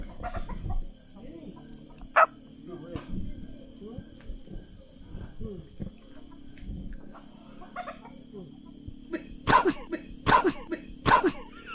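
Chickens on a farm cluck in short, scattered bursts. A few sharper calls stand out near the end, with people talking softly now and then in the background.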